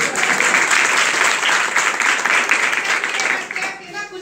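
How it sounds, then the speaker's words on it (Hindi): An audience claps in loud, dense applause that holds steady for several seconds, then tapers off abruptly near the end. "इसलिए जोरदार तालियां"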